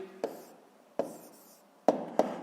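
Handwriting with a pen on paper while solving a sixth-grade math equation, four short scratching strokes spaced irregularly, close and quiet in a still room.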